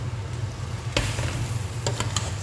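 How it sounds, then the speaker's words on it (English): Pasta being stirred into marinara sauce in a pan, a soft continuous bubbling sizzle with a few sharper scraping and tapping strokes from the spoon, close by. "So I stir it together."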